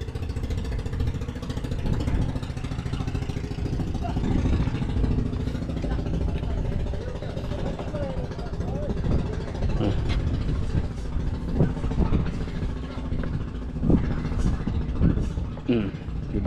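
A small Ferris wheel ride driven by a new 4DR5 engine runs steadily, a continuous mid-pitched mechanical drone close by, with faint voices in the background.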